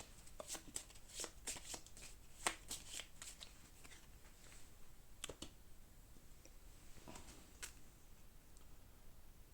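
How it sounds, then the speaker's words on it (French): A deck of playing cards for the Way of the Samurai board game being shuffled, with a series of quick crisp riffling snaps in bursts, close and soft, with faint clicks between. "Il n'y a plus que 2 cartes, donc c'est mélangé."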